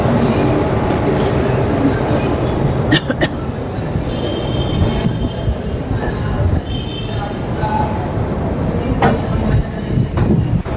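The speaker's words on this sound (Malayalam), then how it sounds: "ഇപ്പോൾ ട്രെയിൻ നമ്മളത് പുറപ്പെട്ടിട്ടുണ്ട്" A passenger train departing Amritsar rumbles along the rails with a steady low roar, occasional clicks and clanks, and some voices in the carriage.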